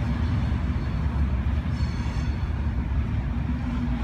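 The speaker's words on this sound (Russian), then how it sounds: "Поездяшка." A train passing on a mild late-January day, a steady, loud, continuous low rumble and rolling drone that holds throughout with no voices.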